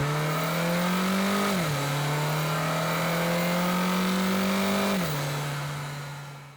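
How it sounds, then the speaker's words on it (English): A Renault Clio RS engine at full throttle in second gear, pitch climbing steadily as it revs out, dipping sharply at each gear change before climbing again, loud and close throughout with no talking. "downshift into second, and let's just floor it"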